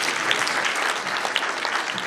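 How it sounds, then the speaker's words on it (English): Brief burst of steady audience applause at a design presentation, many hands clapping at once, fairly loud and dense. "Applause, please."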